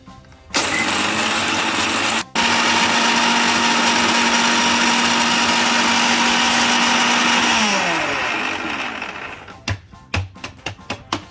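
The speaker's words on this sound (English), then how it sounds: "So now we'll grind this roasted whole spices into fine or coarse powder." Roasted whole spices whir in an electric grinder, a loud steady motor drone running several seconds with a brief cut, then winding down into a string of rattling pulses and knocks at the end.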